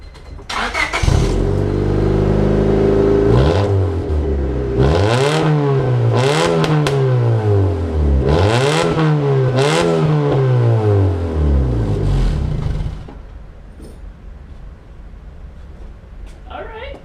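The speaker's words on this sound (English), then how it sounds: "I heard some backfire there." A car engine revs hard several times in rising and falling sweeps, loud and close, with sharp backfire pops, then settles to a lower idle near the end.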